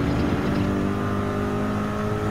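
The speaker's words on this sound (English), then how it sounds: "Gonna have to rev it up onto the high gear." Race car engine in Gran Turismo 7, a Manufacturers Cup exhibition race, drones steadily and loudly with a constant harmonic tone, holding high revs for the whole short stretch without speech.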